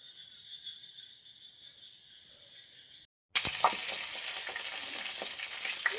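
A steady chirping drone plays quietly at first, then ingredients for fish curry drop into hot oil and break into a loud, sustained sizzle with crackles, close by and without speech.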